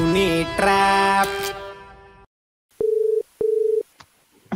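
A steady telephone tone precedes a prank call, playing as two long identical beeps separated by a short gap, with a brief electronic burst and silence before them and faint clicks after.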